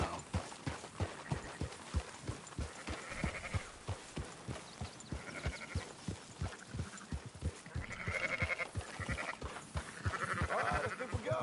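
Flock of sheep bleating repeatedly in the video game Red Dead Redemption 2, overlapping calls from several animals close by alongside a steady rhythmic thumping, with no talk.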